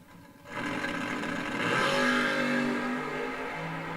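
Two drag racing cars, Brian Balducci and Ken Clark, launch and accelerate hard side by side at the St. Patrick's Classic, a loud sustained engine roar that swells after a quiet start and holds for several seconds with no talk.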